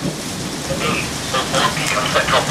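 Steady heavy rain pours during a storm, with low rumbles of thunder rolling underneath, a dense constant wash of sound heard from inside a truck.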